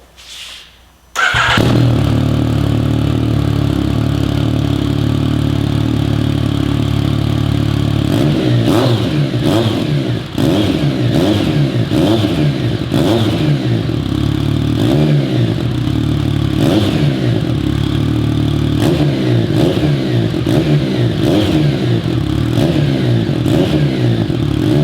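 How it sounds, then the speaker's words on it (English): Yamaha FZ-09 motorcycle fitted with an M4 slip-on exhaust starts after a brief click, settles into a loud close idle, then is blipped through several sharp revs with a crackling, throaty note. "We're going to start the bike up, and we're going to listen to the exhaust note."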